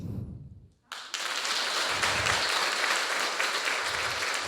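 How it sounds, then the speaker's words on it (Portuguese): Applause breaks out at a women's church gathering after a brief moment of low voice, becoming a dense, steady wall of clapping that holds at full strength to the end. "desse uma salva de palmas para você"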